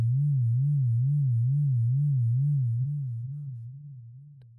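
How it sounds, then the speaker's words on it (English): An FM synthesizer sine wave, its pitch rising and falling in a slow, regular vibrato, holds steady and alone before gradually fading out. "we've got a sine wave and it's increasing and decreasing in frequency"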